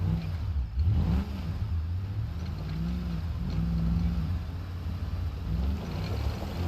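An off-road car engine in BeamNG Drive revs under throttle, a steady mid-pitched drone whose pitch rises and falls in gentle swells as the car climbs, continuous and fairly close.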